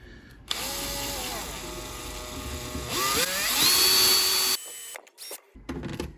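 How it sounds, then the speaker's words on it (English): A power drill with a 2mm bit whines at high speed during a turbocharger rebuild, pitch rising as it bites into the material, then stops abruptly with a few brief bursts afterward. "we're going in with a 2mm drill bit"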